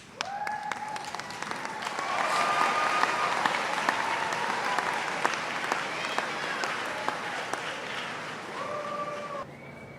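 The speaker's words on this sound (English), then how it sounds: "and give them a round of applause." At a college commencement ceremony, a large audience claps in a broad sustained round of applause, with a voice speaking faintly over it at the start and end.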